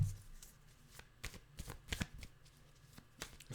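Tarot cards shuffled by hand at close range, with soft quiet riffles and taps coming in irregular bursts.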